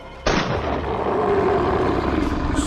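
A single loud rifle gunshot cracks suddenly, followed by a long rolling echo that fades slowly.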